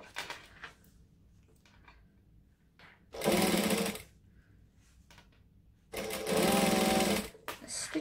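A sewing machine stitches along a fabric edge in two loud, steady whirring runs of about a second each, close up, separated by quiet handling sounds.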